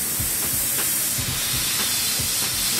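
Airbrush spraying paint on a scenic ocean design, a steady close hiss of compressed air and atomized paint running continuously without pause.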